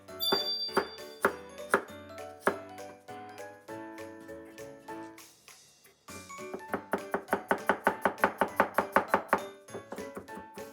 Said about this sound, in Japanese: でにんにくもみじんしていきます。